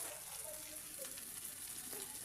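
Ginger, garlic and potatoes fry in a pan with a soft, continuous sizzle and faint crackles, quiet and steady throughout.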